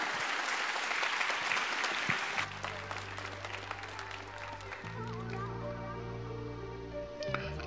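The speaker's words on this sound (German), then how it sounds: "Einen ordentlichen Applaus für Chiara." Audience applause for a cosplayer on stage at the DoKomi 2021 cosplay contest, a loud dense clapping crowd for about two seconds before it gives way to swelling stage music with low sustained tones.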